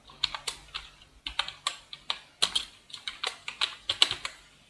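Steady, close typing on a computer keyboard while entering an Excel formula, a brisk run of light, uneven key clacks with no voice over them.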